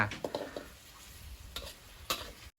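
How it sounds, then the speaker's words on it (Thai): Shallots frying in coconut cream to a Thai salted snakehead fish curry, a quiet sizzle broken by several light scrapes and clinks of a spatula against the pan. "เจียว หอมกับหัวกะทิ ให้แตกมันนะยาย"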